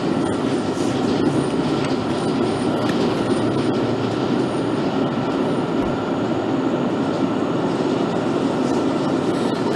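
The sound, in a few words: train running in BVE Central Line train simulator video game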